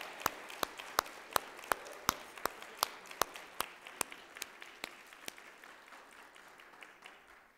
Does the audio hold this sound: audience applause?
yes